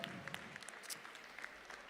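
Quiet applause from a small audience at a cat show at the Salon de l'Agriculture in France, scattered individual claps standing out over a soft wash of clapping.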